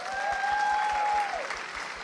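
Sustained applause from an audience at an education congress, dense steady clapping throughout with a brief whistle-like tone riding above it.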